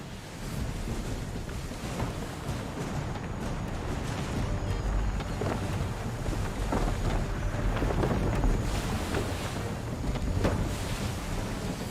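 Strong wind on a sailing ship at sea in Assassin's Creed III, a continuous rushing roar of gusts mixed with waves and creaking hull, loud and steady throughout with no speech.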